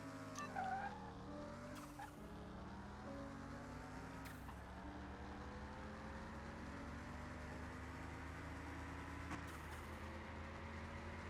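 Car engine racing against a Nissan GTR in Car Mechanic Simulator 2021, a steady high engine drone with pitch sweeping through gear shifts and brief bursts, loud and sustained with no talk.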